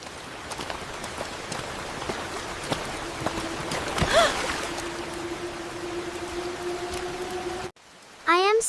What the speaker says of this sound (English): It is only a little rain.